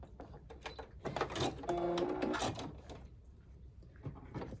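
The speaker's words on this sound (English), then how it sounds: "I'm just going to take the last one and sew it to the last side of that square." A sewing machine stitching a fabric quilt strip onto the last side of a square, heard as a faint mechanical whirring run with soft clicks and rattles, quiet and close.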